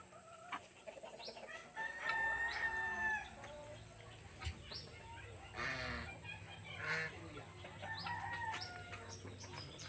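A rooster crows several times, with hens clucking around it in a quiet farmyard.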